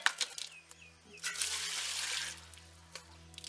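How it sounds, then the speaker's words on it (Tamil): Raw goat meat, about five kilograms for Chettinad salted dry meat, is washed under running water: a broad, steady rush of water with splashes and small clinks, fairly close, with no talk. "தாராளமா தண்ணி ஊத்தி வெள்ளாட்டு கறியை நல்லா சுத்தமா கழுவி எடுத்துக்கலாம்."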